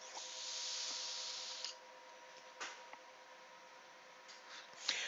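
A soft, steady hiss of vapour being drawn through an Aspire Atlantis vape tank with its airflow nearly closed, faint and close, followed by a few small ticks and brief puffs.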